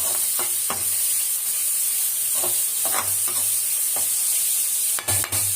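Vegetable fried rice sautéed in a pan, a spatula scraping and stirring in uneven strokes over a constant bright sizzle, close up with no talking.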